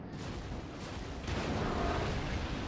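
Main battery guns of the IJN Kongo battleship fire in World of Warships, a dense rumbling salvo roar that swells midway and rolls on as a heavy, continuous boom without voices.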